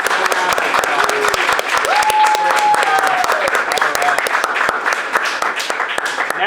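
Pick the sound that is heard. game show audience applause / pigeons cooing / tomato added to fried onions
game show audience applause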